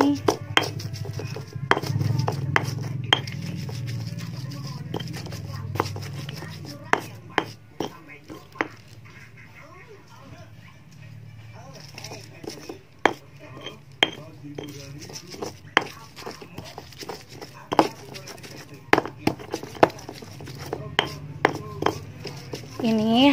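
Spices are pounded and ground in a stone mortar with a pestle for Sundanese beef gepuk, giving irregular sharp knocks and scraping taps over a low background hum, with quiet talk in between.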